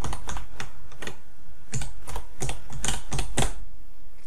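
Typing on an Amstrad 6128 Plus computer keyboard: a steady run of close, clacky keystrokes in uneven bursts, with no voices.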